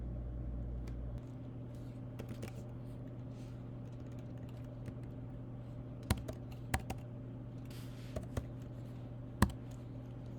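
Sparse keystrokes on a computer keyboard while entering billing details, faint taps and a few sharper clicks scattered over a steady low electrical hum, with no voices.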